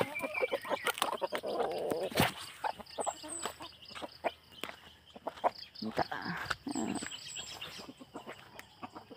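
Chickens on a farm cluck and squawk in uneven bursts close by, mixed with a few chirps and some quiet talking in the background.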